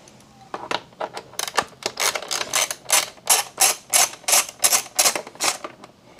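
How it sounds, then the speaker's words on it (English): A 5 mm Allen key ratchets steadily as bolts come off the cowl of a 2018-2023 Honda Goldwing, giving a run of close, regular clicking bursts that quicken and grow louder toward the end, with no voices. "Take my 5 millimeter Allen. Take off these two bolts."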